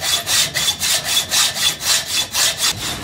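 A metalsmith jeweller saws metal by hand with quick, even back-and-forth strokes, about three rasping passes per second, close and clear with no talking.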